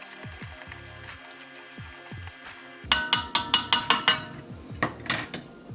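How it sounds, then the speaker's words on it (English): A sturdy spoon stirs coffee in a cup, with a series of bright metallic clinks and scrapes against the cup wall following one another in a quick, uneven rhythm after a softer, muffled start, close and fairly loud. "Let's give our coffee a nice stir."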